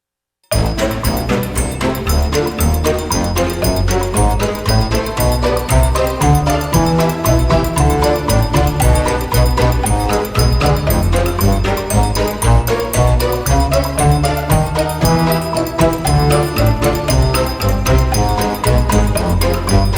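Full ant jazz arrangement with all the percussion layered in, a dense, loud, continuous groove of steady rhythmic hits under sustained melodic parts, playing without pause from start to finish.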